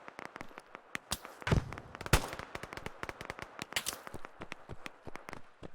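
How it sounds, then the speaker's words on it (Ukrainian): Rapid, crackling bursts of gunfire in the video game Operation: Harsh Doorstop, shots popping in quick irregular clusters with no talking. "Та по тобі стріляють уже"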